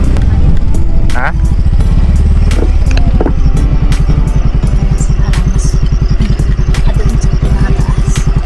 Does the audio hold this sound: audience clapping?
no